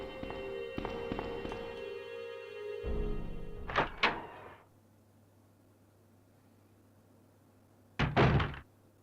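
A double door opening in the Resident Evil 2 video game: a mechanical clunk with a heavy creak and thud, then a low rumble, followed by a second loud thump several seconds later. A steady game hum sits underneath.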